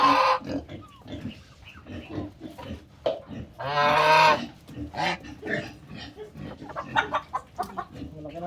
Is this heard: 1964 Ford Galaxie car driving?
no